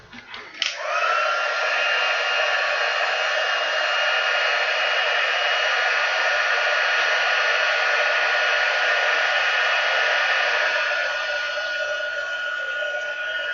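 Heat embossing tool blowing steadily over a stamped image, a constant loud whooshing hiss that starts abruptly and holds for over ten seconds before easing slightly near the end, with no talking.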